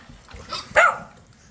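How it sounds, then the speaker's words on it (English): A farm dog gives a single sharp, close bark, followed by a short fading tail, with no talking. "Got the new farming dog."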